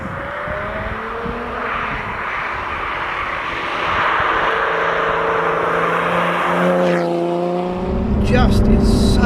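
A Lotus Evora engine drones loudly and steadily with a throaty exhaust note, rising in pitch as it revs, heard from inside or close to the car on wet roads.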